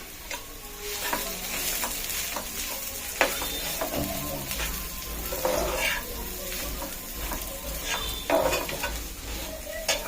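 Spiced mashed potato filling is stirred and fried in a pan, with a continuous sizzle broken by scraping strokes and occasional clinks of the spoon against metal.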